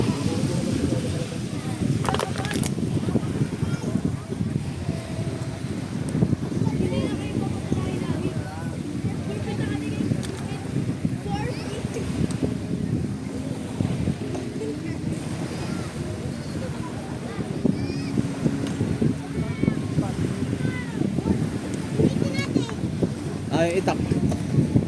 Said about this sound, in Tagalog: Hangin lang.